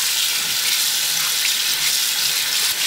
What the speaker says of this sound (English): Now we're gonna give this a good rinse down.